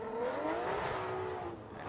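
Michael Essa's Achilles-shod BMW drift car accelerates hard on initiation during Formula Drift qualifying in Orlando, a sustained high engine wail with a rising and falling pitch, heard from a distance over steady crowd and track noise.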